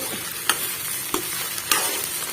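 Rajgira (amaranth) leaf palya stirred and fried in a pan over a low gas flame, a continuous close sizzle broken by several sharp scraping knocks of the spoon against the pan, with no talking.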